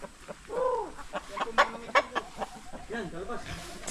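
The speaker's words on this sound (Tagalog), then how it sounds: "Yung mga manok pong ibang inahin." Hens on a farm in Tagkawayan, Quezon give a few short clucks and murmuring calls nearby, with some rustling and a faint voice in the background.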